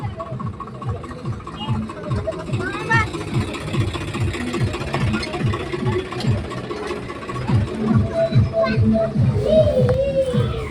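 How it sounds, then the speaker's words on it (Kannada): A tractor engine idles nearby with a steady low chugging pulse, while people talk over it outdoors at a village fair. "ಏ ಟ್ರ್ಯಾಕ್ಟರ್ಲೆ"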